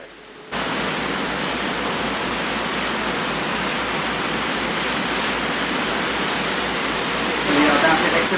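Passenger ferry leaving the harbour at Fremantle bound for Rottnest Island, a loud, steady broadband roar of engine and rushing water filling the whole clip, swelling slightly near the end as it picks up speed.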